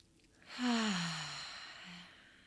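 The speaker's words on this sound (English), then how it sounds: "So take a breath with me." A single deep breath drawn in and let out slowly as a long, soft sigh, close and fairly loud against quiet, fading away over about two seconds.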